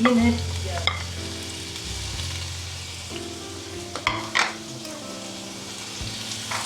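Tomatoes and onions fry for biryani in a pan, a steady close sizzle with stirring and utensil scrapes, one louder clatter midway, no talking.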